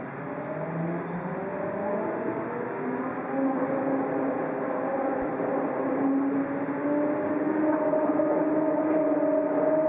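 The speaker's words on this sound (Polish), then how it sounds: "Tramwaj teraz ruszy." A PESA 122Nal Swing tram pulling away in Łódź, with rising electric motor whine and rumbling wheels growing steadily louder as it gains speed.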